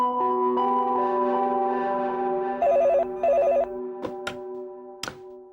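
A telephone rings with a sustained bell-like tone, then a pair of sharp warbling ring bursts, then a few short clicks as it stops; no voices.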